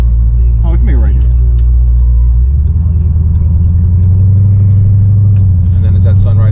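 A cammed Jeep SRT V8 turns over and fires, the starter's whine giving way to a loud, choppy lumpy idle with a deep throbbing rhythm, close up, with voices briefly over it.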